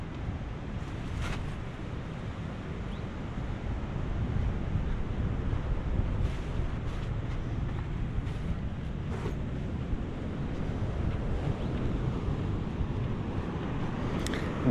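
Ocean waves and surf wash steadily against rocks at Glentana Caves, a continuous broadband roar blended with gusting wind buffeting the microphone, with a few sharper splashes rising out of the wash.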